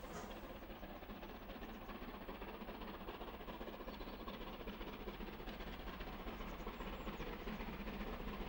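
A West Country steam locomotive working hard up Whitley Bank with the regulator wide open and heavy cut-off, a constant dense roar of exhaust and rolling train noise, fairly distant and steady throughout, no voices.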